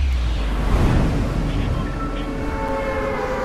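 A train in the video game Fortnite, a steady low rumble with a sustained horn-like tone that holds level and runs through the whole moment.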